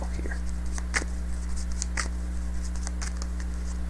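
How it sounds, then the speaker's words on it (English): Tarot cards are shuffled by hand in a series of soft, irregular riffles and slaps over a steady low electrical hum. "Okay, I'm done shuffling."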